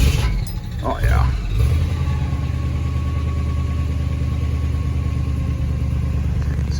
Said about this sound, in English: I'll show you what these Glasspacks sound like before we go ahead and chop them off here